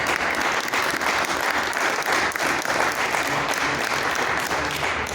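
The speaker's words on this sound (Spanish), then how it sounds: "pido un fuerte aplauso, por favor" An audience applauding the author at a book presentation, dense, steady clapping from a full room, loud and sustained throughout with no talking over it.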